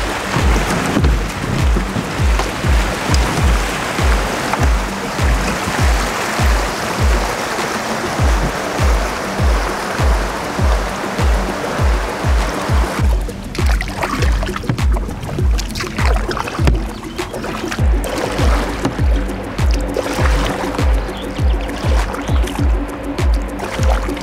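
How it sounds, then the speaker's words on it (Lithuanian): Rushing water of small rapids on the Danube makes a steady broadband roar, with regular thumping pulses repeating throughout and no voices. "už mane šniokščia vanduo, tai irgi kažkokie kriokliukai prasideda"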